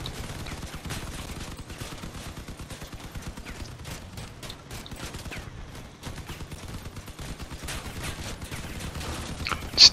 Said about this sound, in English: this guy's shooting me in the back